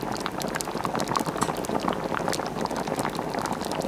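A pan of vegetable stock comes up to a simmer, giving a close, steady bubbling and popping that carries on evenly with no voices.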